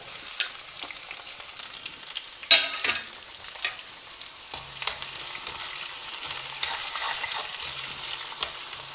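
Onions frying in a pan with ginger, green chilli and curry leaves, a steady close sizzle with occasional clinks and scrapes of stirring throughout.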